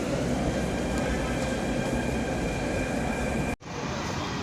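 A Delhi Metro train runs along the line with a loud, steady rumble and roar heard from on board, cut by a brief dropout near the end.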